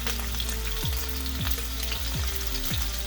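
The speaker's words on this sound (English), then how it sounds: "So I'm going to turn it over. It only takes a minute or so, and I have it on pretty high heat." Chicken sizzles loudly in a pan over high heat with a constant frying hiss, and several quick scraping strokes come through as the pieces are moved.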